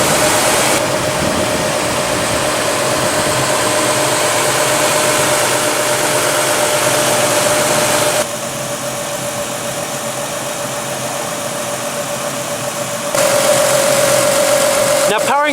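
A Lexus GS with a 3.5-liter V6 runs steadily, a constant mid-range engine hum with a faint tonal whine, dipping slightly in level midway and then swelling louder near the end.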